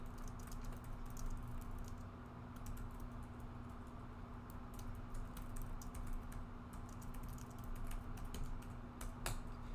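Rapid, uneven clicking of a computer keyboard runs throughout at a low level under a steady hum, the keystrokes coming in quick clusters with brief pauses.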